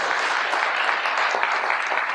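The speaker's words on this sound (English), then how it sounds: "Let's give the panelists a round of applause" A forum audience applauds panelists with steady, dense clapping that holds at an even level throughout.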